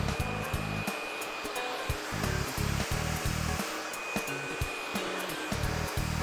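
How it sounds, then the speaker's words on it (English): A hair dryer roars steadily at close range while blow-drying hair toward the ends, with the airflow chopping and fluttering rhythmically as it moves through the strands, no voices. "I'm gonna blow dry this towards the ends"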